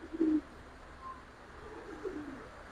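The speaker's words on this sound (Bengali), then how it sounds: "নর কবুতর ভাই" Male pigeon cooing in a Bangladeshi loft, a soft low coo near the start and another faint coo later, quiet against a hushed room.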